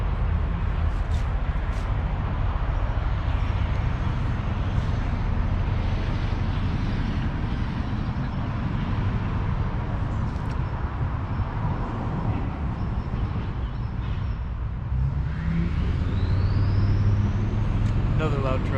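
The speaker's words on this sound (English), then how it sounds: "here comes a loud truck" A loud truck rumbles past on a nearby road, a heavy low drone that swells and lingers, with wind buffeting the microphone and a rising whine near the end.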